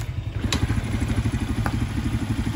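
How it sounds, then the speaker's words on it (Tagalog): A Rusi Smart 110 motorcycle engine runs at a steady idle, close and fairly loud, with an even rapid chugging pulse and a couple of faint clicks. "Tapos aandar yung ating motor."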